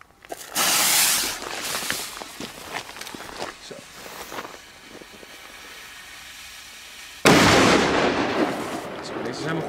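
Fireworks bought in Spain are set off outdoors, with sharp loud bangs and rapid crackling bursts at the start and again near the end, plus scattered pops and footsteps in between.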